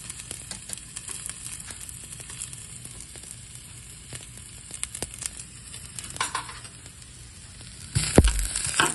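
Garlic and ginger fry in hot oil in a pan, giving a steady, crackly sizzle that swells briefly midway and then bursts louder near the end.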